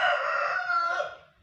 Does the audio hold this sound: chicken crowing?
yes